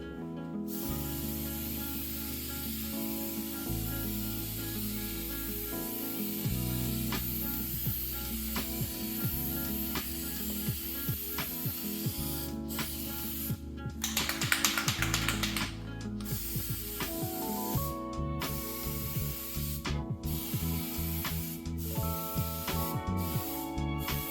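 Plasti Dip spray coating a PS5 console being customised: a short aerosol hiss of a few seconds, heard over steady background music.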